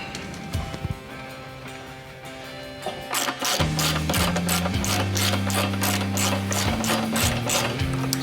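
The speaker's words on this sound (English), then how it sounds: "So right now I am reinstalling the factory bolts that I told you to retain for these steps." A ratchet driving factory bolts back in on a Jeep Wrangler JL while side steps are fitted, giving rapid, loud mechanical clicking that starts slower, then becomes a fast steady whirring ratchet close by.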